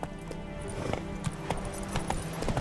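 Roach, a horse in The Witcher 3, gallops with rapid rhythmic hoofbeats of clip-clop against a game backdrop, steady and close for a few seconds.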